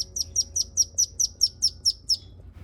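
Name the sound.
day-old ducklings chirping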